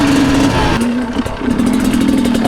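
A two-stroke enduro motorcycle engine runs close and loud with a steady buzzing drone, dipping briefly before climbing back to a high rev.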